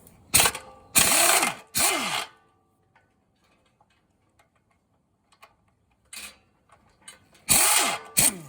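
A 1/2 inch socket ratchet clicks in quick, loud bursts of rapid pawl ticks while working on a 2012 Toro zero turn mower transaxle, with quiet pauses and faint tool handling between the bursts.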